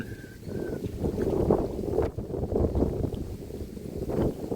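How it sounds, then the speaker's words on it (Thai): Cold wind blows steadily into an open shelter, a continuous close rushing roar with gusty swells and buffeting against the microphone, with no voices. "นี่ลมพัด ลมตี เข้ามาเต็ม ๆ เลย"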